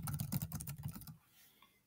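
Rapid keystrokes on a computer keyboard while entering text into an online writing tool, a dense run of close clicks that stops abruptly partway, leaving quiet room tone.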